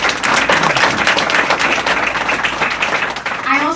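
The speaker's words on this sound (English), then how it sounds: "Let's give her a round of applause." A loud, sustained round of applause from an audience at a Congressional Hispanic Caucus event, dense steady clapping filling the whole stretch without a break.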